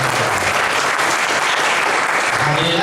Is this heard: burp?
no